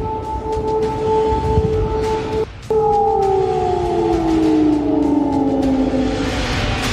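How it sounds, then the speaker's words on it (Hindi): An air raid siren wails over Kyiv, a steady loud two-tone howl that cuts out briefly, then returns and slowly drops in pitch, heard alone with no voices. "कीव के लोग एयर रेड सायरन की कानपूरी आवाज से पूरी रात जागकर काट रहे हैं।"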